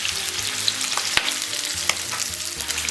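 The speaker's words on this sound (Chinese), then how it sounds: "然后咱们小火给它煸香" Pork stir-fried with spices over low heat gives a steady close sizzle, with a few sharp utensil taps and scraping stirs against the wok, and no voices.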